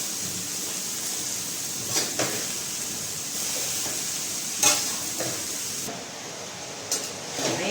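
Shredded cabbage is stirred in a hot frying pan, a steady sizzling hiss broken by occasional scraping knocks of the spoon, close and without speech.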